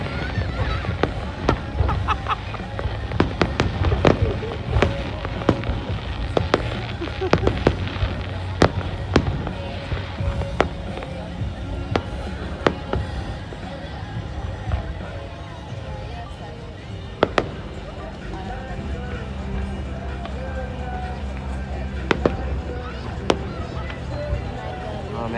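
Fireworks burst over Vancouver, BC, in a continuous barrage of booms and crackling pops with a steady rumbling wash underneath, while onlookers talk and exclaim over it.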